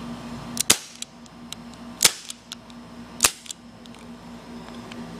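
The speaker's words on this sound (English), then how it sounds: "Ran out of BBs after like 2 or 3 shots" Three sharp CO2 BB gun shots fired at an MW2 game disc, each a crisp pop spaced roughly a second and a half apart, with faint clicks and a steady low hum between them.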